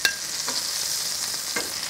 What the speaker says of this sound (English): put batch 2 in that hot frying pan